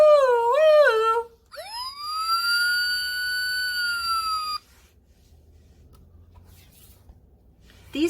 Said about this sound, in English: A police car sounds its siren on its way to an emergency.